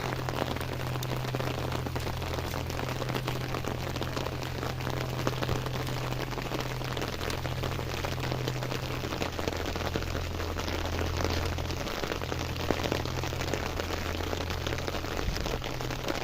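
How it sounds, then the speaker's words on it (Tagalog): Constant rain falls in a quiet outdoor spot, an even unbroken hiss of drops that never lets up, with a low steady hum running underneath and no talking. "Walang tigil ang ulan"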